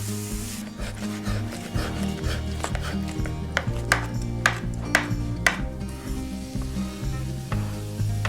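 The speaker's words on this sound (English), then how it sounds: "Give that all a stir." Softened vegetables sizzle in a hot pan as a spoon stirs them, with steady frying hiss and repeated scraping strokes against the pan, close and continuous without talk.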